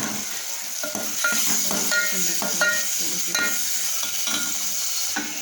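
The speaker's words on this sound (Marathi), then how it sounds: "त्याच्यामध्ये टाकला मसाला परतायला" Masala sautéing in a pan for amti gives a steady bright sizzle, broken by repeated clinks and scrapes of a spoon stirring against the metal, close by and with no voices.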